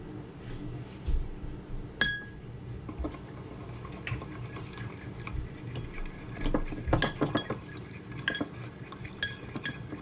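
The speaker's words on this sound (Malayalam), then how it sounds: "ഈ മുട്ട നല്ലോണം അടിച്ചെടുക്കുക" Eggs are whisked with chili powder, black pepper and salt in a bowl, giving quiet irregular metallic clinks and scraping taps against the bowl, with a few sharper clinks standing out.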